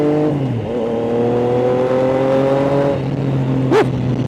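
A Triumph Trident 660 with an inline-three engine holds a steady, droning note while riding on a roadside route. Near the end a brief rising blip cuts in. The engine sounds close and loud, and no one speaks.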